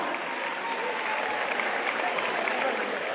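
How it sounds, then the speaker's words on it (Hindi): Dense, loud audience applause at a public event announcing a sports budget, a continuous even roar of many hands clapping with a murmuring crowd underneath. "तालियों की गड़गड़ाहट"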